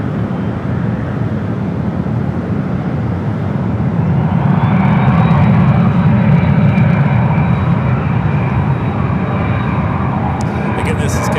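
A 16-year-old KLM Boeing 777-300ER roars at San Francisco airport as its jet engines spool up, a broad steady rumble swelling midway with a thin whine above it.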